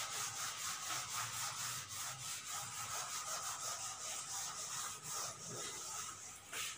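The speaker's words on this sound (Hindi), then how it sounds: "रब करके दोबारा ही लिख देती हूं" Rubbing out chalk or marker writing on a board, heard as a steady run of quick, rhythmic back-and-forth scrubbing strokes, fairly close and continuous with no talking.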